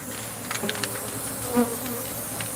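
Bees inside a building buzz in a steady insect drone, with a few brief sharper flits and taps against windows rising over the hum.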